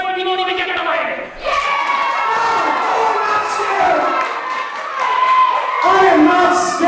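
A capacity crowd at a wrestling event cheers and shouts loudly and continuously, with children's high-pitched yells mixed into the roar and a voice speaking over the noise.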